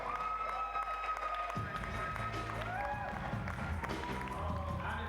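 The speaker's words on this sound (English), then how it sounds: "Crowd going absolutely wild." Spectators at the La Sportiva Legends Only 2017 bouldering competition cheering and clapping continuously, moderately distant, with a commentator talking over the noise and music in the background.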